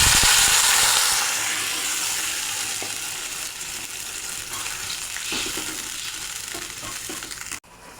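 Fried potatoes in a hot pan of Bengali fish curry with potatoes hiss in a loud, broad sizzle that slowly settles as water is added, with a few light clinks of utensils and no talk.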